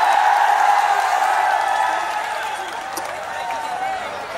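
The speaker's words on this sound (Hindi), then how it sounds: "इसलिए माताजी को जोरदार तालियों स्वागत करें।" A huge crowd of about ten thousand young men at a fan meetup cheers and applauds for a mother. The loud, roaring wash of voices and clapping fades somewhat toward the end.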